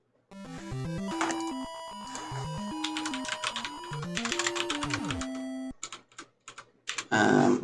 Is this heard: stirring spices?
no